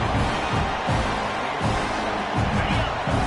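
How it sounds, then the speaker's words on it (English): A football stadium crowd at an Arkansas at Auburn game swells into a steady, loud roar, with rhythmic surges of noise and cheering filling the whole stretch. "And the crowd coming to life here, trying to help this defense down in the red zone."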